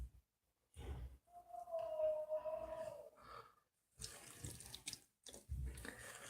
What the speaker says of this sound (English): So we are going to pour a little bit now.